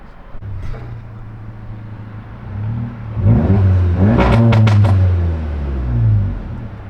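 Modified VW Golf MK7 GTI running flex fuel with Integrated Engineering tuning, accelerating hard from inside the car: engine note climbs through a loud rev with quick shift breaks, then settles into a steady drone.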